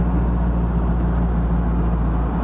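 A 1957 Porsche 356A Speedster drives along with a steady, even low engine and road hum, continuous and fairly close, with no voices over it.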